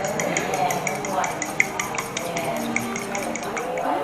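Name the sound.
egg being mixed in a bowl for egg wash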